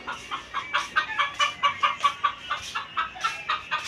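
Hens clucking in quick, rhythmic bursts, close by and fairly steady throughout, with a few sharper calls mixed in.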